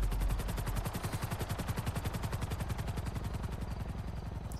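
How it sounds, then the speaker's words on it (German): Helicopter in the video game GTA 5, with a steady, fast rotor chop pulsing evenly throughout, loud and close with no talk over it. "Trevor hat jetzt einen Helikopter."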